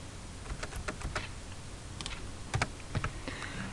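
Java code typed on a computer keyboard, a close run of quick uneven key clicks in short bursts with a couple of heavier thumps, no talking.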